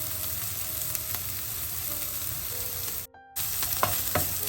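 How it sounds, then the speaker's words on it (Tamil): Chopped onion and green chillies fry in a pan with hot oil, making a continuous close sizzle with faint stirring scrapes and a brief drop in the noise partway through. "சேர்த்துட்டு எல்லாத்தையும் நல்லா கலந்து பொரிய விடுவோம்"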